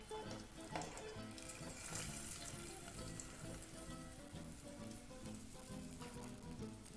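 Breaded fish fillets fry in hot oil with a steady, close sizzle and crackle that runs throughout at an even level.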